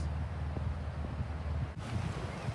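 Steady wind gusts buffet the microphone with a low, rumbling roar that keeps up throughout, briefly dipping before returning.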